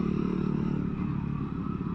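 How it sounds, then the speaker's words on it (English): Fantic Caballero Scrambler 500 Deluxe with its 450 single-cylinder thumper engine, running loud and steady with a throbbing low rumble and a little mechanical clatter, no voices. "This 450 thumper is brilliant. Sounds epic, looks fantastic, rides brilliantly."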